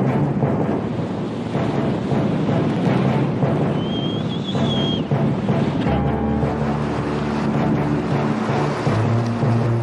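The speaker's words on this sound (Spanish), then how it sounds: "Este es el malecón de Veracruz." Sea waves wash steadily along the Veracruz seafront promenade, a constant broadband roar with heavy wind buffeting the microphone, a brief whistle-like tone partway through and a low engine-like hum toward the end.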